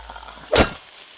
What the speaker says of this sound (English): I got this saute pan with a small amount of oil in here. I'm gonna drop in the sausage.